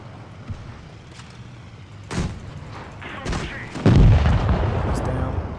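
An R35 light tank in World of Tanks Blitz fires its gun amid several booming in-game shots and impacts, the heaviest blast coming late and echoing, with mechanical rumble between.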